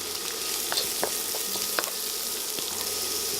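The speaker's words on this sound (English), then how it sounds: "a heaping tablespoon of this bacon fat, and I'm going to use that to saute our aromatics" Onions and garlic sautéing in bacon fat in a pan, a steady close sizzle with occasional stirring scrapes and small pops, no voices.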